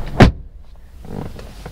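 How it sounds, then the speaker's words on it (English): A door on a 2022 Maxus T60 pickup truck shuts with a single loud, solid thud, followed by faint cabin rustling. "Okay, the door sounds reassuring."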